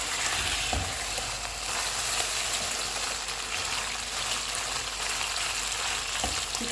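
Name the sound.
chicken frying in hot oil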